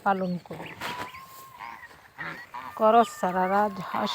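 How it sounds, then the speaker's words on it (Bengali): A flock of geese honking close by, repeated nasal calls overlapping in short bursts with little pause between them. "অনেক সুন্দর হাঁসের দল"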